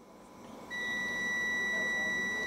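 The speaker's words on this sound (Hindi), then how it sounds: "अगर मैं इसको बजर बजाता हूँ सो देखिए बाजर बज रहा है" A Bluetooth digital multimeter's buzzer sounds one steady, continuous high beep. It switches on abruptly and holds for about two seconds over faint room noise.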